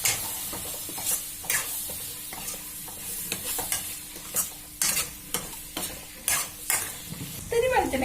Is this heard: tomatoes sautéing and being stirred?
yes